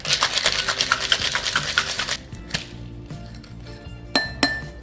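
A cocktail shaker half full of ice is shaken hard, giving a fast rhythmic rattle of ice against the tin for about two seconds, followed by a few scattered clinks and knocks as it settles.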